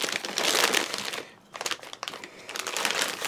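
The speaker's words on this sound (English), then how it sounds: "Let's go ahead and we'll cut this bag open." Plastic packaging around a Luban No. 4 hand plane crinkles and crackles loudly as it is cut open, with a brief pause midway before more close rustling.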